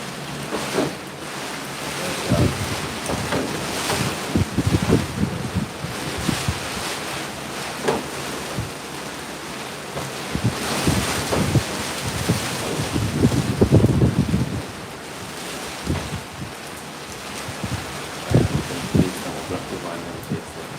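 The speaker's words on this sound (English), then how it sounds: "The wind that intensify right now" Strong wind from Category 5 Hurricane Melissa in Spanish Town, Jamaica, roaring and buffeting the microphone in loud, uneven gusts throughout, with rushing surges and occasional thumps.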